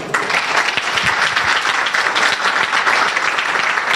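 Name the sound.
congregation applause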